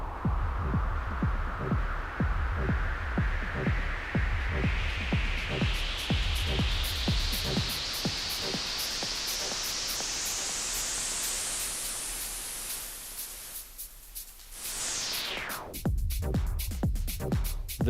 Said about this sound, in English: Noise, you can put noise on the same channel or another channel.